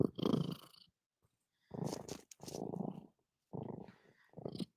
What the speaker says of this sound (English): Yeah, he's really purring loudly.